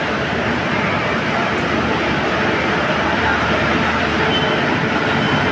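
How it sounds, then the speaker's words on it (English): A train rumbles steadily and loudly through Tirupati railway station, a continuous roar of wheels on rails with a faint rhythmic clatter and a voice under the noise. "So there's a train is here. It is moving."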